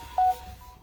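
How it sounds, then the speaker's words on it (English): A short phone notification tone chimes once, a single steady mid-pitched beep lasting a fraction of a second over quiet room noise. "I should have turned my notifications off."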